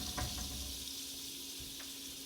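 Butter bubbles and sizzles softly in a pan before tuna goes in, a faint steady crackle with a couple of small clicks.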